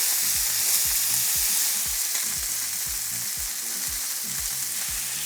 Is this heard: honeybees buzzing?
no